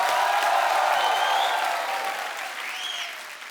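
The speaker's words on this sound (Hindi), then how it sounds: "अक्षय पाजी के लिए जोरदार तालियां हो जाए एक बार" Studio audience applause for Akshay Kumar on a comedy talk show, a dense, steady wash of clapping from a large crowd that fades slightly toward the end, with a few whoops rising over it.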